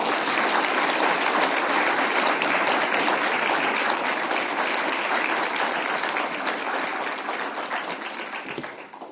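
Sustained, dense applause from a university audience welcoming visiting author Colin Barrett, filling the whole stretch at full strength before easing slightly near the end.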